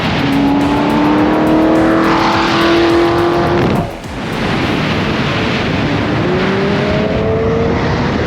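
A McLaren 765LT pulls away, its engine revving up in a rising whine, dropping briefly at a gear change, then climbing again, loud and close with no talking.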